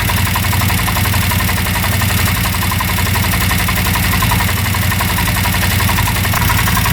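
A used UTV engine idles loudly and steadily up close with a rapid, even mechanical chatter and a faint knocking, with no voices.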